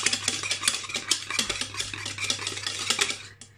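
A hand whisk beats cupcake batter in a bowl, making quick, rhythmic scraping clicks close by, with a low hum underneath.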